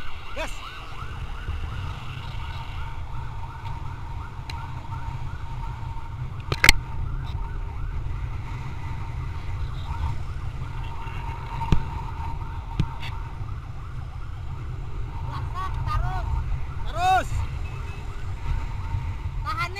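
Ambulance siren during a hospital escort in Banjarmasin, with wailing sweeps rising and falling mostly in the later seconds over a constant rumble of engines and road noise. A few sharp knocks stand out, and voices are faintly present.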